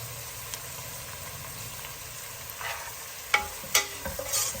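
Curry leaves fry in hot oil in a pan for corn upma, a soft, steady sizzle with a few sharp crackles and spatters near the end, fairly quiet and without speech.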